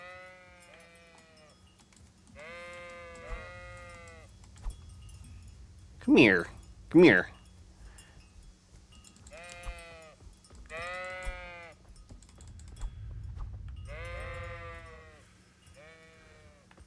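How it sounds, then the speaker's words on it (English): Sheep bleat in the medieval video game Kingdom Come: Deliverance, with several wavering, repeated calls close by in clusters. A man briefly calls out between them, and two sharp bursts of noise cut in midway. "Swear to God, I'm gonna start punching those sheep."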